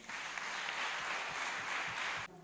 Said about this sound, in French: Chère maman, applaudissez pour vous-même.